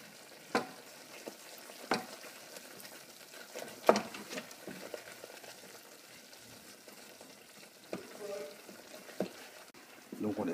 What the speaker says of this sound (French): Donc on laisse bien brunir après jusqu'au bout. Tout en mélangeant.